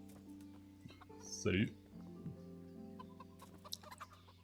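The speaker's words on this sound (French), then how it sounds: "Alors, on prend une poule là." A chicken clucks in the medieval game Kingdom Come: Deliverance, one short burst of loud, squawking cackles standing out over a steady game ambience while a voice speaks around it.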